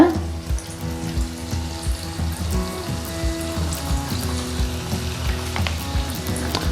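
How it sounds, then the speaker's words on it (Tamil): Pieces of marinated chicken for KFC-style popcorn chicken drop into hot oil and deep-fry, giving a close, loud bubbling sizzle with irregular pops and rattles, strongest at the very start. "எண்ணெய் சூடாகிடுச்சு. இப்படி ஒவ்வொரு பீஸாக போடலாம்."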